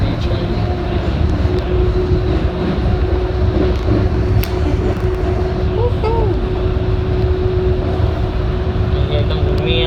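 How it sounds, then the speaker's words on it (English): A high-speed tram runs through Tampa, heard from inside with a steady electric motor hum and running rumble. Brief wheel squeals rise over the hum midway, and muffled voices may be present underneath. "this is a nice high-speed train."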